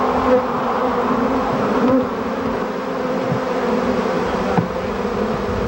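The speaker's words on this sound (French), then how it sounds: "cet épais et bruyant nuage de 160 millions d'abeilles affamées" A dense, loud swarm of bees drones continuously, a thick steady buzz filling the air with no voices.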